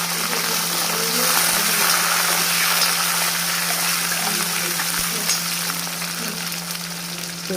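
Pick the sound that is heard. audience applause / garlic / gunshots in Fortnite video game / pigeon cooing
garlic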